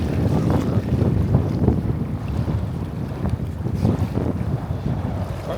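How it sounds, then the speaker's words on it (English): Strong breeze at a sunrise beach on the Gulf shore buffets the microphone in low, rumbling gusts that swell and ease continuously, with faint surf underneath and no voices. "Quite breezy right now."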